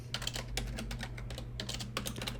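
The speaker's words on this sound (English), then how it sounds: "what's wrong with my typing today?" Steady, rapid typing on a computer keyboard during a Python programming session, with close, crisp key clicks in irregular bursts over a low hum, no voice heard.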